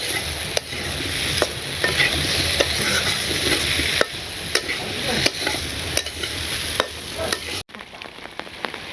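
Potatoes frying in a spice masala, stirred steadily with a spatula that clacks sharply against the pan at intervals over a constant close sizzle; the sizzle cuts off abruptly near the end.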